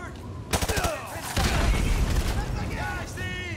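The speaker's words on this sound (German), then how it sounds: "War das gerade der Drucker, der da explodiert ist?" Explosions and bursts of gunfire in a Call of Duty: Modern Warfare 2 firefight, a printer blowing up among the blasts; loud, dense, repeated cracks and booms with someone talking over the action.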